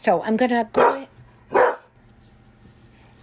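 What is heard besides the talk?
dog barking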